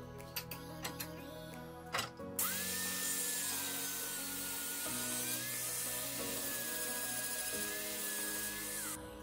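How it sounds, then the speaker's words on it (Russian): An angle grinder cuts the threaded end off a dried-out foam gun: a few light taps and knocks, then a loud, steady high-pitched whine that holds for several seconds before stopping. "Резьба нам не нужна, срежем ее болгаркой."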